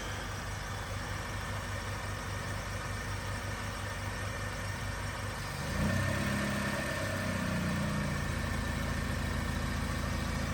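Honda Civic VTi with a rebuilt D16 engine idling just after its first start-up, a steady close rumbling idle with even low pulsing that shifts to a slightly louder, rougher tone partway through.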